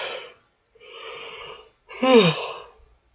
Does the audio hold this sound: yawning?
yes